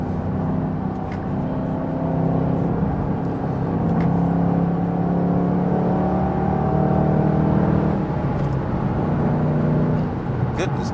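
A 2014 Ford Mustang GT500 pulls steadily at speed in fourth gear, its engine drone holding a sustained low harmonic tone from inside the cabin, with road roar underneath and people talking over it.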